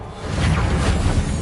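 Reparo repair spell cast in Hogwarts Legacy, a short, loud magical whoosh with a dense, swelling rush of sound lasting about a second and a half.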